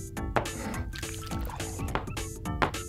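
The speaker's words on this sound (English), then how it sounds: "Now pour the batter in the cake pans in front of each of you." Cake batter is poured into cake pans in a cartoon kitchen, a soft, wet run of squishy glops and drips that repeats close by at a quiet level, with no voices.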